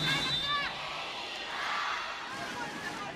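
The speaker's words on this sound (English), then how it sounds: "Crowd are happy." Crowd cheering and whooping at a Japan vs Kazakhstan women's volleyball world final qualifier in 2016, a steady roar of spectators with higher shouts rising over it throughout.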